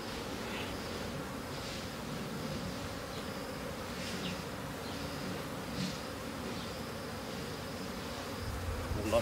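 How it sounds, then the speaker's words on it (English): Honeybees swarm and buzz around a hive as they are moved out of an asbestos tank, a dense continuous drone with individual bees flying close past now and then. "It seems like the bees can smell their queen now. Still a lot of bees outside,"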